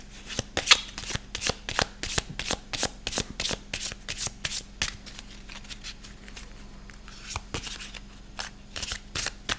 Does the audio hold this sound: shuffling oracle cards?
yes